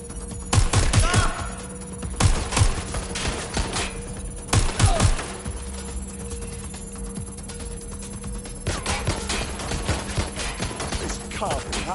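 Gunfire in the Watch Dogs Legion video game: bursts of sharp shots in clusters, loud and close, with quieter stretches of background game noise in between.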